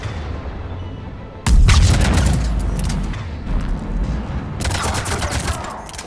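Heavy video game battle in Mass Effect: a sudden loud cannon boom followed by dense rolling gunfire and explosions, with another intense burst of fire a few seconds later.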